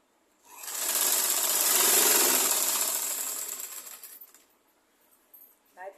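A sewing machine runs a single continuous burst of stitching along a petticoat seam, rising quickly and fading away after a few seconds. A few faint clicks follow in the quiet.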